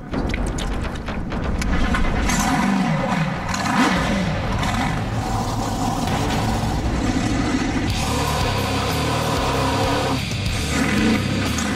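A monster truck racing through a muddy obstacle course roars loudly and close, its engine revving and surging hard with rattling clatter and scraping, and the noise stays dense and continuous throughout.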